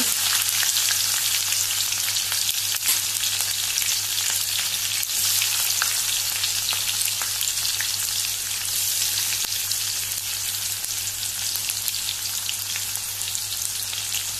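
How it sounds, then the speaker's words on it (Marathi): Cumin, mustard seeds, asafoetida and chillies crackle in hot oil for a Goan cabbage bhaji, a loud continuous sizzle with small pops scattered throughout and no talk. "हे आतां भितर फोडणेचें सामान घालुया म्हणजे जिरें सासवां आनी हिंग सोमत्योच आमी भितर मिरच्यो घालुया"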